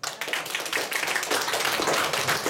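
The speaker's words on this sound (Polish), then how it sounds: "Wielkie brawa!" Audience applause at a Polish talent show stage event, dense and steady clapping filling the whole stretch at moderate level with no talk over it.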